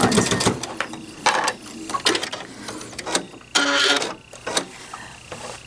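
A sewing machine runs in several bursts of stitching, top-stitching fabric stiff with heavy sizing along an edge-joining foot; the motor whirs loudly in short runs separated by brief pauses, with no talk.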